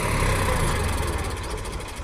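A tractor engine labours in a farm field while pulling a tempo van stuck in the ground, a loud close low rumble that holds steady and then eases slightly toward the end.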